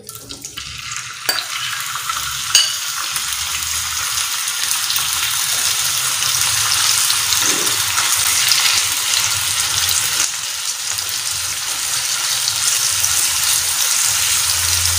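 Minced meat keema frying on a tawa over a medium flame gives a steady, dense sizzling hiss that carries on without a break, fairly close, with no voices over it.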